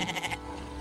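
A large goat bleats once, a short wavering call that cuts off after about a third of a second, leaving only a quiet background.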